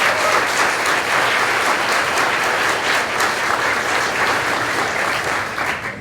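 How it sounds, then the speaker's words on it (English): Guests at an annual awards banquet give board members a big round of applause, a loud, dense, steady clapping from a crowd that holds for several seconds before tapering slightly at the end. "Big round of applause to our board members."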